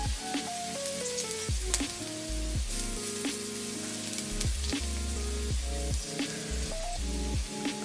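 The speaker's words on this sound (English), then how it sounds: "So now I'm gonna add in some garlic" Garlic crackles and sizzles in a pan over low-medium heat, a steady, close frying hiss with scattered pops, heard alongside a sustained musical backing.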